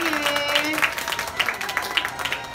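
An audience claps after a stage magic show in which real popcorn was produced, a brief run of scattered clapping under a voice speaking over a loudspeaker.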